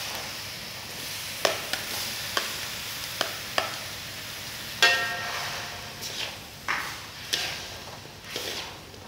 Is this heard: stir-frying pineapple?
yes